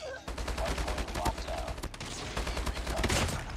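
HBRa3 assault rifle hip-fire in Call of Duty Mobile, steady rapid bursts of gunfire rattling almost continuously, loud and close, with game effects underneath.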